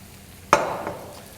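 Swiss chard dropped into a pan of sautéing shallots and garlic sets off a sudden loud hiss that fades into a steady, softer sizzle.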